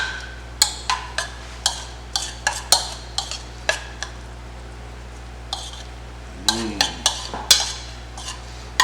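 A spoon stirs leftover herbs into a dish, producing a steady series of close, light scrapes and clinks against the bowl, with no voices.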